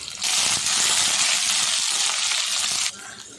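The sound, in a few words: green chilies frying in oil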